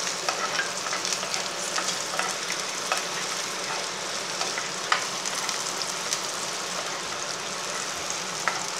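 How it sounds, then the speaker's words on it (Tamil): Onions frying for ragi upma in a pan, a continuous close sizzle with light crackles and occasional stirring scrapes, steady throughout without talk. "ஃப்ரை பண்ணிக்கிட்டே இருங்க. வெங்காயம் வதங்கிக்க"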